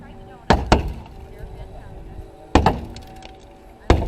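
A car is smashed at a Route 66 festival, with three loud close crashing impacts of breaking glass and crunching metal spaced a couple of seconds apart, and people talking in the background.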